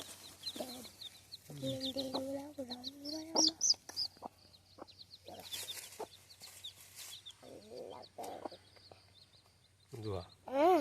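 Chickens cluck and squawk intermittently at close range, with short bursts of calls scattered across a quiet background.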